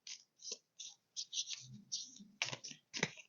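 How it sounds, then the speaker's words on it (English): Heart-shaped oracle cards being shuffled by hand, giving a quick run of dry, papery clicks and flutters in short bursts, close and fairly quiet, with no talking. "heart-shaped cards, so they can be a little bit tricky to shuffle sometimes."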